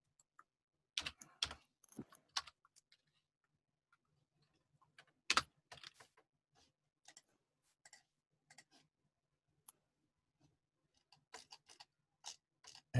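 Quiet, intermittent keystrokes on a computer keyboard, typed in short bursts with pauses between, faint and close with no talking.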